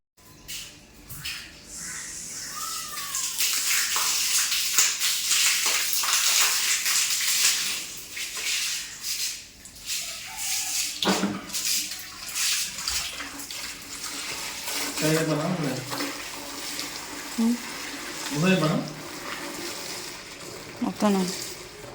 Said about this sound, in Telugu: మనమైతే ఇప్పుడు మోటార్ తీసుకొని ఇంట్లో నీళ్ళు అయితే పడదాం.